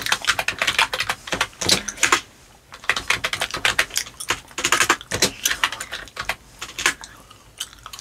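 Rapid typing on a computer keyboard at a receptionist's desk, dense irregular key clicks close up with brief pauses between bursts, no voices.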